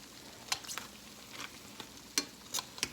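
Fry bread bannock frying in a pan makes a soft, faint sizzle, with a few brief crackles and pops scattered through it and no voices.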